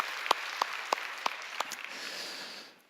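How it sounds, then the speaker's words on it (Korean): A church congregation applauds, a handful of sharp, separate claps over a soft wash of clapping that fades out at the end. "우리 하나님께 영광의 박수를 한번 올려드리겠습니다"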